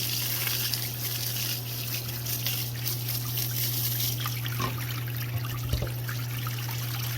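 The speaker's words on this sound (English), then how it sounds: "So we'll get some hot water going." Hot water runs steadily from a tap in a thin, continuous trickle, with a low electrical hum underneath and no one speaking.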